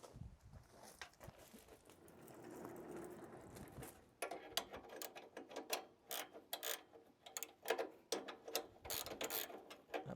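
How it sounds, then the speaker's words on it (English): A new blade is tightened on a Wood-Mizer sawmill, heard as close ratcheting clicks and metallic mechanism rattles. They come in quick irregular bursts after a quieter rustling start, with no talk. "I just added a new blade, and I'm going to tighten it up and get ready to saw."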